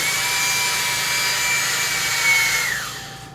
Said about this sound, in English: that's when you want to get your drill and just drill through that sucker.